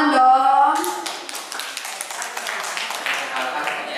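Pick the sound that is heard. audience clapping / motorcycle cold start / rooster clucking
audience clapping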